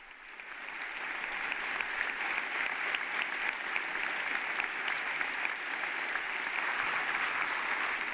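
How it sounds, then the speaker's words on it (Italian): A large audience at La Sapienza University in Rome gives Pope Leo XIV a long standing ovation, dense steady applause that swells in the first second and then holds loud and even throughout. "now a very long round of applause at the end of the speech"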